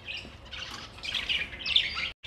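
Canaries chirping and twittering continuously at a moderate, fairly soft level, in busy overlapping bursts with no voices.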